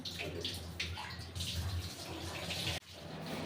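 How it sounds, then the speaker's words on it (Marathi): Water is poured and splashes while the water is changed in household plastic bottles holding indoor plants, giving a close, steady trickling and gurgling with brief pauses. "तर आता हे प्लांट मला काय पाणी चेंज करायचं आहे,"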